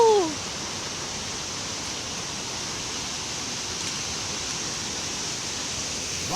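Tagbanakaw Falls pours in a steady, even rush of water, fairly quiet and unbroken, with a short voice at the very start.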